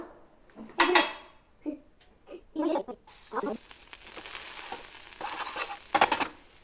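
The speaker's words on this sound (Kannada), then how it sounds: "ಇವಾಗ ನಾವು 2 ಕಡೆನೂ ಬ್ರೆಡ್ಡನ್ನು ಫ್ರೈ ಮಾಡ್ಕೋಬೇಕು" Bread fries in butter on a hot tava: a few sharp utensil clinks and knocks come first, then a steady, close sizzle with occasional scraping.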